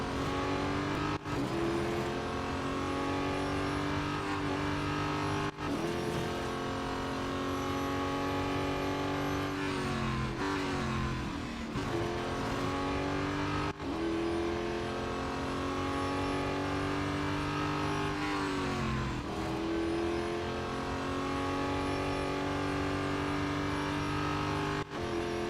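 Racing car engines in the video game Real Racing 3, with a loud, continuous high revving whine that climbs and drops sharply at several gear shifts as the car races around the track.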